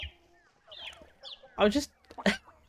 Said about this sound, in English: Oh my god, the sound of those chickens.